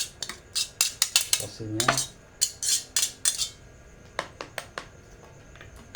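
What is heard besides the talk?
putting noodles into a bowl for chicken noodle soup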